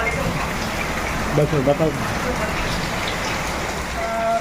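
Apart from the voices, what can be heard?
rain falling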